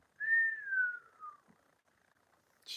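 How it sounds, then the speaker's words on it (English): A clear, sustained whistle gliding slowly downward in pitch, heard alone against silence, followed by a brief faint sound at the end. "Did you hear the birdie whistle?"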